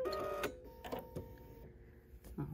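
A quilter's sewing machine trims its threads after stitching a quarter-inch seam on a 1930s sampler pinwheel block, giving a few quiet, short mechanical clicks and whirring bursts close by.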